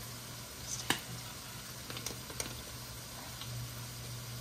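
Onions frying in hot oil give a soft, faint sizzle with a few light pops and stirring scrapes, steady and quiet throughout with no voices.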